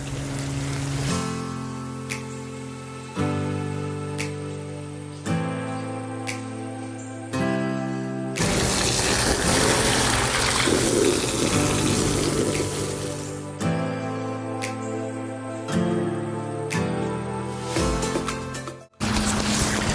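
Water fills a big pond and spills over its side, a steady rushing gush broken by sharp cuts and a stretch of loud, broad roaring flow.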